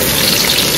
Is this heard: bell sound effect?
no